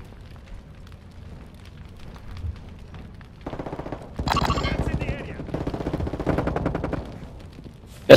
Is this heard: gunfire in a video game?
yes